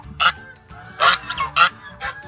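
Several loud goose honks in an irregular series on a farm, as a goose mounts a duck, with a faint, low background hum between the calls.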